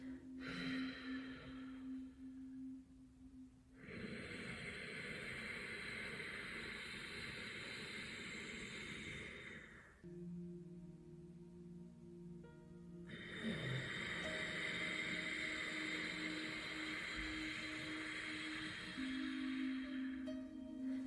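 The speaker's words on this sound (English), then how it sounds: "So nice ocean-like sound with the breath." Ocean-like yogic breathing drawn through the nose with the back of the throat engaged, two long soft hissing breaths separated by pauses, close and quiet with a faint steady hum underneath.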